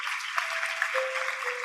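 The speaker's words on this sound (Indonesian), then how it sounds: "kita berikan tepuk tangan untuk Tuhan Yesus." A standing church congregation applauding for Jesus, a steady close wash of many hands clapping with a sustained tone underneath, continuous through the short stretch.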